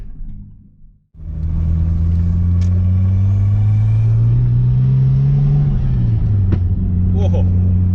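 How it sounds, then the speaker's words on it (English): An RB25DET-swapped R32 Skyline drones loudly from inside the cabin, its engine note rising under load, then a sharp crack of backfire breaks through near the end as the revs drop. "Whoa, backfire."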